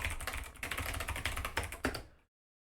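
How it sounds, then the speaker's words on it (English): Rapid, continuous clatter of keys on a computer keyboard during a live investigation of a website defacement attack, steady key strikes for about two seconds, then abrupt silence. "let me just type in the domain."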